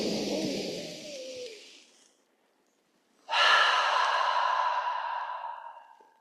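A deep breath during a guided meditation: a long breathy exhale with a faint voiced tail, a brief silence, then a strong, close inhale that swells and slowly fades.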